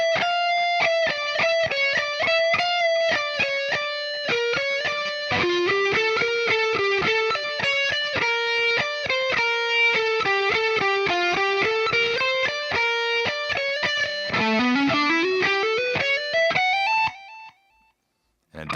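Distorted electric guitar plays the minor chorus at a slowed tempo, a fast stream of sustained lead notes ending in a rising scale run before cutting out abruptly.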